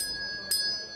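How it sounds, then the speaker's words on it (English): A hand bell is rung once to end a mingling session, giving a bright sustained metallic ring with a sharp strike midway and lingering high overtones. "And the unmistakable sound of Tom's bell can mean only one thing"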